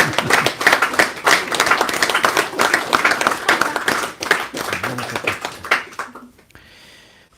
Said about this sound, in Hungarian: Most magatokat tapsoljátok.